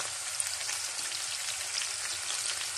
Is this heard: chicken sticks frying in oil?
yes